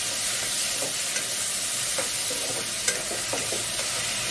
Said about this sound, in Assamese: দালিখিনি এতিয়া উলিয়াকে ভাজি ল'ম আগতে অলপ দেৰি